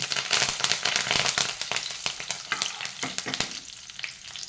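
Dry red chillies and curry leaves crackle in hot oil for a spicy onion-tomato chutney, a dense steady sizzle with sharp pops and stirring scrapes, close and loud throughout with no voices.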